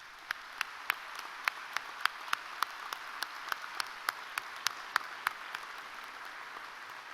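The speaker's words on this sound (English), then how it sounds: "let's give them our applause today in appreciation for their service" At a VMI joint military commissioning ceremony, sharp, evenly spaced claps ring out one after another, faint and distant in a large reverberant space.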